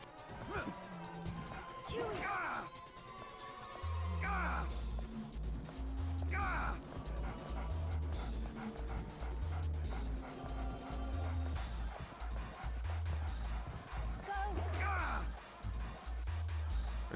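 A dog in the survival horror game Haunting Ground yips and whimpers amid game sound effects and a pulsing soundtrack, while someone talks over the action.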